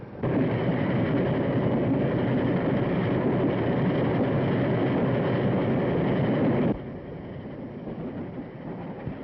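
A train rolls steadily along the rails with a loud, continuous rumbling roar that drops to a softer level near the end.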